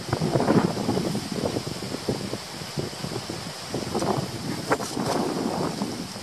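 Strong wind buffets the microphone outdoors by a rice paddy, a loud continuous rumbling roar with gusty swells throughout and no speech.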